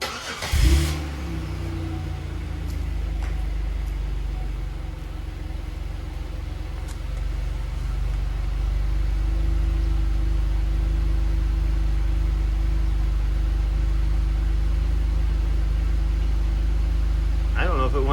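A 2005 Buick LaSabre engine cranks and catches with a brief burst, then settles into a steady, loud idle close by that builds slightly and runs on for the rest of the stretch.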